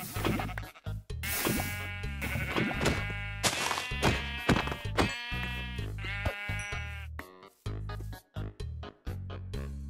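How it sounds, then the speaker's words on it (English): Sheep in the video game Minecraft bleat repeatedly, a close, loud run of wavering baa calls overlapping one another with brief gaps between, no talking. "Or I might get some sheeps."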